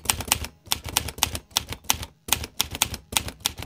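Quick taps on a smartphone's on-screen keyboard click out in short bursts of rapid keystrokes with brief pauses between, close and crisp, with no talk.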